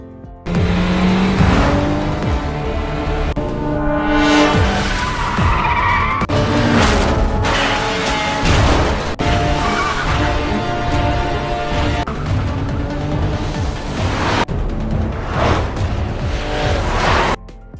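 A car speeds off during a chase, with loud, continuous engine revving and tyre screeching mixed into a dense, dramatic backdrop.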